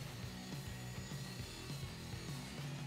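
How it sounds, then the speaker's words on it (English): A Dremel rotary tool with flex shaft and smooth sanding drum whirs steadily on foam in a rhythmic, repeating pattern, a quiet high-pitched grind that rises and dips with each pass. "I use my Dremel rotary tool with a flex shaft attachment and a smooth sanding drum"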